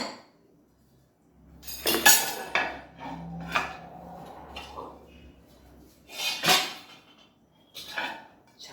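A metal plate scraping and clinking against steel cookware as it is pulled out and lifted in a home kitchen, several close clatters and rubs separated by quiet gaps.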